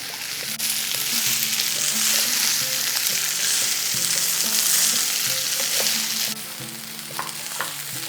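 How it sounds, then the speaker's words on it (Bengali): Rice and lentils frying in a pan for vegetarian pakhni rice, a loud, steady close sizzle with occasional stirring clicks and scrapes, easing slightly near the end. "এরপরে এই পুরো জিনিসটাকে একটু সময় নিয়ে ভেজে নেব।"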